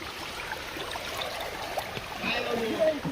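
Water rushes and trickles steadily in a stream near Alibag, a constant, moderate wash with a few splashes near the end.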